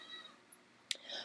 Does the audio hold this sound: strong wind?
no